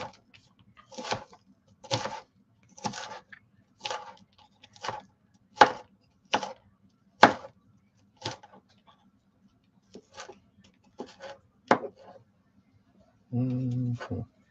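A very sharp Ginsu knife chops Brussels sprouts on a cutting board, about a dozen crisp, evenly spaced thuds roughly a second apart, loud and close, followed by a brief burst of talking at the end.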